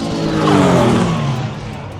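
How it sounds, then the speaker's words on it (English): Race cars launch in a roll racing elimination run in Queensland, one of them a Mitsubishi Evo, with a loud, close engine roar that swells and then eases over about two seconds. "first run of eliminations, we've got Strapped against an Evo"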